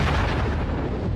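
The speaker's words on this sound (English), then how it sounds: "they short circuit with a tremendous explosion" A loud, sustained explosion effect standing in for a solar flare, a dense continuous roar filling the whole moment with no quieter gap.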